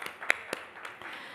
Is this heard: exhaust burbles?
no